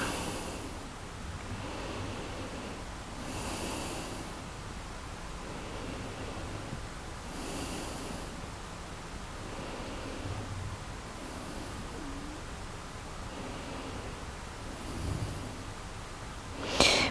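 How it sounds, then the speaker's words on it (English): Slow, deep breaths during a power yoga session, with long airy inhales and exhales that repeat roughly every four seconds, close and steady over a faint background hiss. "Deep inhale"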